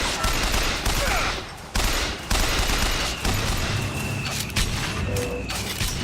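Rapid bursts of gunfire from the shooter game Bioshock Infinite, several volleys broken by brief gaps, with mechanical clicks and game effects between the shots.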